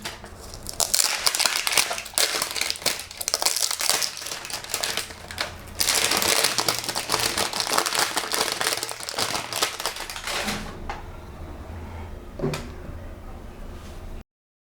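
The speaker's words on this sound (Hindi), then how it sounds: "सारी पन्नी और उतार देते हैं पहले" Plastic wrapping is peeled and crumpled off Hindu deity idols, including a Lakshmi figure, giving close, continuous crinkling and crackling that fades to lighter rustles near the end.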